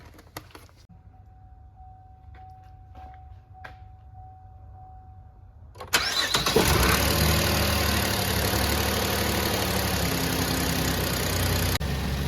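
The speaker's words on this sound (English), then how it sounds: "now that we got the engine running" A Cadillac XTS with the 3.6 V6 starts up after a transmission fluid change and settles into a steady, even idle, loud and close after a quiet stretch with faint clicks and a thin hum.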